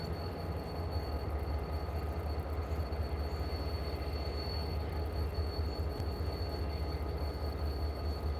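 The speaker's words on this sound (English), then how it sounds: "As a UP locomotive, it looks like maybe there's 2 of them." Union Pacific locomotives, apparently two, roll through a rail yard, heard from a high lookout as a steady low rumble with rail noise and a thin sustained whine running throughout.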